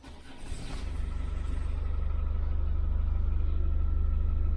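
A Range Rover P38 engine cranks and catches, then settles into a steady, deep idling rumble that grows slightly louder, close by with no talking.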